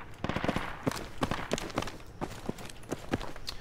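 Rapid gunfire in the tactical military shooter Project Reality during a competitive match, a steady series of sharp cracks and bursts at moderate distance with no talk.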